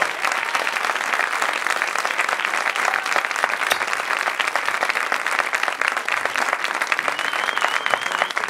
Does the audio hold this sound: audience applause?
yes